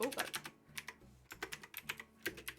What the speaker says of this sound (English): Sorry for all the typing noises as well.